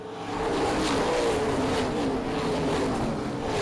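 Race cars roar down the back straightaway at Springport Motor Speedway during a Saturday night short-track race, a loud continuous engine drone with a slowly shifting pitch as the front two cars battle side by side.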